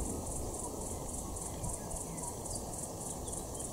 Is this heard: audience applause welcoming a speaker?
no